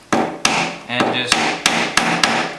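A hammer strikes metal in a quick series of about seven sharp taps, evenly spaced and close, with a brief metallic scrape midway, driving out a pivot pin on an airplane fuel restriction device.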